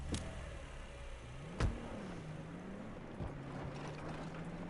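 Vehicle engine in the game Saints Row, a faint, steady low drone that wavers slightly in pitch as the car drives, broken by a couple of brief thuds.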